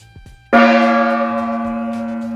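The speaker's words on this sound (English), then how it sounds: "A new gong." A new gong is struck once, a loud close strike that blooms into a bright, sustained shimmering ring fading slowly, preceded by a few faint soft taps.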